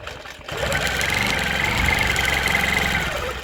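A quilting machine sewing a curved cross-hatching line: a steady, close mechanical whir with a fast stitching rattle that starts after a brief quiet moment and runs evenly to the end.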